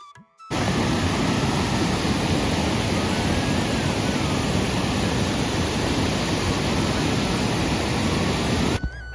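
Muregar waterfall running with low water, a steady, dense roar of falling water that holds unbroken and close for the whole stretch, with no voices over it.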